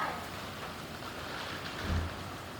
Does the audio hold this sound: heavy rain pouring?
yes